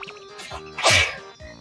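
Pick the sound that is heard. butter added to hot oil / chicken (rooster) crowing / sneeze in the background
sneeze in the background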